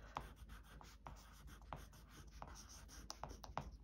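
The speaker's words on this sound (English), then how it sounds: "I try and write down all the things" Pen or pencil scratching on paper, a string of short strokes and taps at a steady, unhurried pace, close and quiet with no voices.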